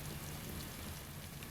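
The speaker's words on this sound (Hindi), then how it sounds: "बारिश" Rain falling on a deserted road at night, a steady, dense hiss of drops, faint and even throughout, with no other sounds.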